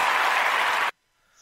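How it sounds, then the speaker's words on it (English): A short burst of applause from a crowd of sports fans on a broadcast, steady clapping for under a second that cuts off abruptly into near silence. "That's a round of applause from Jets Nation for you"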